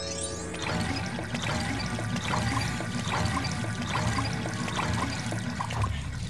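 Toilet flushing in the Lego Batman video game, a steady loud rush of pouring, gurgling water that runs continuously throughout.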